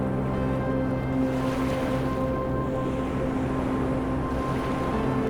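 Waves wash steadily on Santana Beach along Sao Tome's northern coast, a continuous broadband rush with a faint low hum underneath, even in level throughout.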